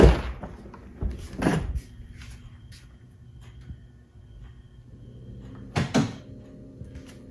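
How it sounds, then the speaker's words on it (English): Close door clunks and a rattling opening from a Tesla Model Y, followed by a steady low electrical hum that starts partway through, with another thump near the end. "So I'm gonna open the door now and the sounds will start."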